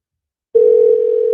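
A steady electronic tone, like a phone dial tone, starts abruptly partway through and holds loud and unbroken during a call-in show.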